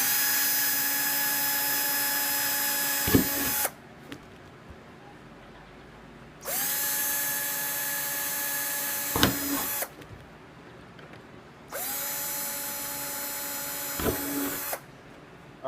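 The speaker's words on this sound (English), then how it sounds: "all we're doing right now is just going to be drilling these 3." A power drill bores holes into a Subaru WRX STI wing in three separate bursts, each a steady high whine lasting a few seconds and separated by short pauses filled with low room noise.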